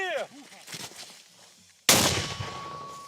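A single loud artillery or mortar blast from Ukrainian gunners on the Bakhmut front in winter, a sudden sharp boom that rings out and decays, following a short stretch of faint voices and background noise.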